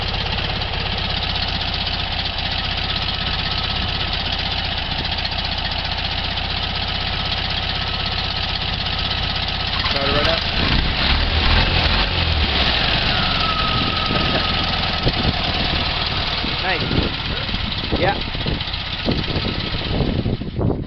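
A VW Bus engine under restoration idles loudly and close, a steady rough mechanical rumble that changes character midway with rattling and knocking bursts.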